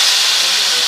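Red chilli powder hits hot ghee in a short burst of loud, bright sizzling hiss, the tadka for a savoury daliya haleem.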